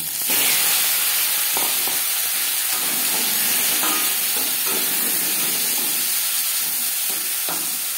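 Loud, constant hiss and sizzle of tomatoes frying in hot oil with black mustard seeds and dried chillies, with occasional soft stirring scrapes. No voices are heard.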